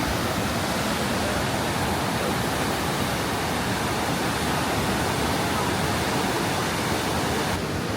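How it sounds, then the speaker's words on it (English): Rushing rapids at Niagara Falls roar as a dense, constant broadband wash of water, loud and unbroken throughout. "Those are some serious rapids."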